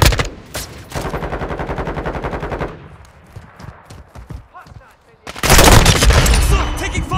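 Rapid automatic gunfire bursts in Call of Duty: Modern Warfare II multiplayer, loud and sustained for several seconds, dropping to quieter scattered shots and movement, then erupting again in heavy close fire.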